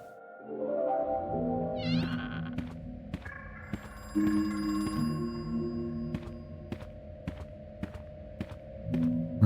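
An old telephone rings in the horror video game Crow Country, with several clear, tonal ringing bursts that repeat at intervals against a quiet background.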